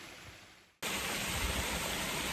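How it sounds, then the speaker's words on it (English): Waterfall on a mountain hike in Mallorca: steady, loud broadband rushing water that cuts in abruptly and then roars continuously, close by, with no voices. "So we're at the waterfall."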